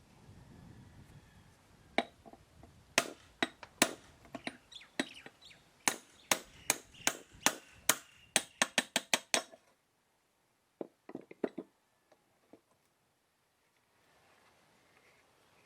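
Socket on an extension working a broken spark plug out of a Nissan 3.5 V6 with a cylinder 1 misfire, heard as a run of sharp metallic clinks and ratchet-like clicks, steady at first, then a few scattered taps before quiet.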